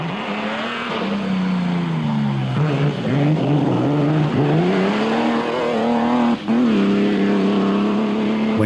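Pre-war ERA R4D racing car climbing the Rest and Be Thankful hill in Scotland, its engine note loud and continuous, pitch rising and dipping with gear changes and a brief lift near the end.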